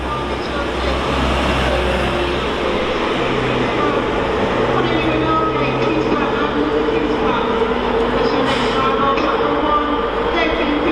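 A TransPennine class 185 diesel unit passes through Doncaster station on the East Coast Main Line, giving a steady, loud rumble with engine drone that lasts throughout under broadband station noise.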